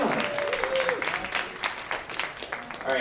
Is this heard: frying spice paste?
no